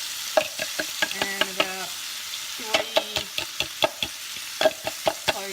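Spices and half an onion fry in a pan with a soft, continuous sizzle beneath a person talking, punctuated by quick tapping and stirring clicks.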